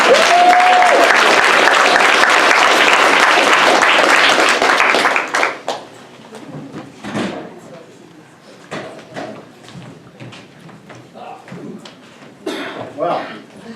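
Audience applause at an improv comedy show, a dense burst of clapping for about five seconds that cuts off abruptly, followed by a quieter stretch of scattered sounds and voices.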